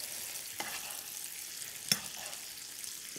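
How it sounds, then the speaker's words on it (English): Hot foaming butter sizzles in a pan while fish is basted, a steady bright hiss with a couple of sharper spoon clinks and spits. "you want to get your butter nice and hot and foaming"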